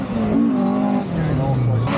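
A rally car driven by Dave Harris at the Race Retro 2023 retro rally roars past close by, its engine note sweeping down in pitch as it goes. A commentator talks over it.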